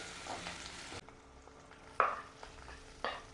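Sliced onions frying in a pan for homemade chicken momos, giving a faint, quiet sizzle broken by a few sharp scrapes from a stirring utensil.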